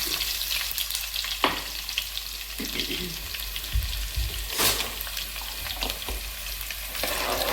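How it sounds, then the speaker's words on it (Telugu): Dry red chillies, cumin and onions fry in hot oil for a curry, giving a steady, close sizzle throughout with a few clinks and scrapes of stirring. "ఫస్ట్గా ఎండుమిరపకాయలు వేసానండి, తర్వాత కొద్దిగా జీలకర్ర, తర్వాత 2 ఉల్లిపాయలు."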